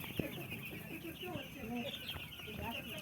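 Chickens clucking at a poultry farm, scattered short clucks and calls at moderate distance over a constant background hum, with faint voices in the mix.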